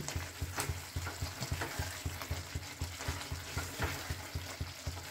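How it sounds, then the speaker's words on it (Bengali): Paneer being stirred into spice masala in a kadhai for an onion- and garlic-free vegetarian kadhai paneer: a steady sizzle of frying with regular, rhythmic scraping strokes of the spoon against the pan, close and alone. "পনিরটা মশলার সঙ্গে মিক্সড করে দিলাম।"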